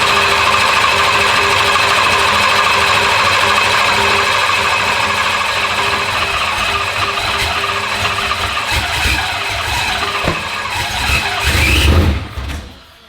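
A big turbocharged engine runs loud and close with a steady droning roar and a high whine. It surges near the end, then cuts off abruptly.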